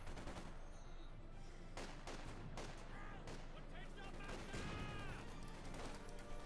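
Bundle grenade blast in Company of Heroes 2, a sharp explosive burst amid a dense, continuous battlefield mix of gunfire, repeated crashes and clatter, loud throughout, with a voice talking over it.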